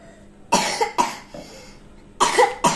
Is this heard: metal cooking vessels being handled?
no